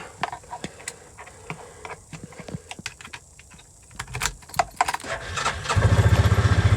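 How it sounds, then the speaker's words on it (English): A fuel-injected Hisun UTV engine starting: a run of small clicks and rattles, then a cranking burst, and finally the engine catching into a steady, close, rapidly pulsing idle over the last second; no talking. "Usually starts right up pretty good, fuel injected, so none of that carburetor bullshit."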